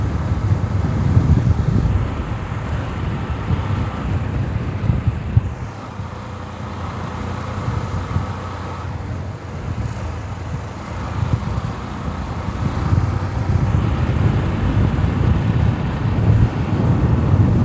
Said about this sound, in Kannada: ಗಾಳಿ ಜೋರಾಗಿ ಬೀಸೋದ್ರಿಂದ ನಾನು ಮಾತಾಡ್ತಾ ಇರೋದು ನಿಮಗೆ ಕೇಳಿಸೋದು ಡೌಟ್ ಇದೆ